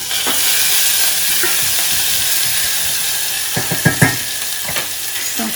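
Mustard seeds, methi, a cinnamon stick and ginger fry in hot oil for kachori filling, giving a steady loud sizzle with scattered pops and a few stirring clatters.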